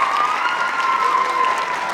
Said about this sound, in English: let me get a round of applause for Ms. Moore singing the Black National Anthem